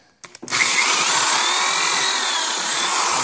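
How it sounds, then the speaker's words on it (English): Power drill boring a hole through a Samsonite suitcase shell to fit a caster wheel: a few short taps, then a loud, continuous high-pitched whine that runs steadily to the end. "I haven't drilled it yet, so I'm gonna go ahead and drill it,"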